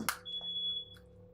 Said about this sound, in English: Oh, my fire alarm's going off.